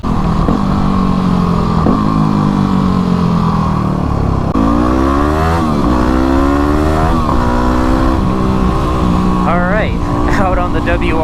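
A Kawasaki KLX351 and a Yamaha WR250R dirt bike rev hard together, engines climbing in pitch through repeated gear shifts, loud and close, with someone talking over the noise.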